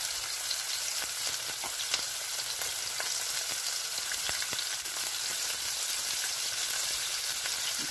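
Fresh onion and garlic fry in a pan for homemade Chinese chicken vegetable fried rice, giving a steady, close, continuous sizzle with faint crackles and no voices.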